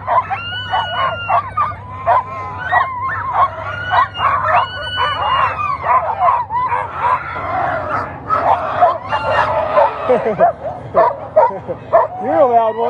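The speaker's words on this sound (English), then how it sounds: "Highly conditioned dogs, they want to go." A pack of sled dogs at a race start barking, yipping and howling excitedly together, a continuous noisy chorus close by with a low engine-like hum underneath.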